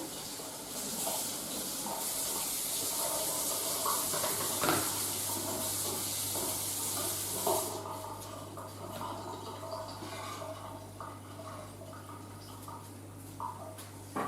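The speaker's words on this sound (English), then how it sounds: "Just keep an eye on that while I finish off with this kale. Just going to rinse this" Tap water runs steadily over kale leaves being rinsed for a kale and bacon salad, a broad close hiss that eases partway through while a low hum continues underneath.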